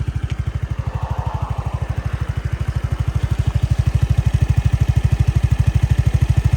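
A Suzuki Address 110 scooter engine idles nearby with a steady, rapid putt-putt pulse, even and unbroken throughout, growing slightly louder toward the end.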